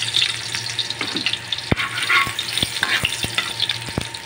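Garlic drops into hot cooking oil in a pan and sizzles close up, broken by several sharp clacks and scrapes of a spatula stirring, with no talking.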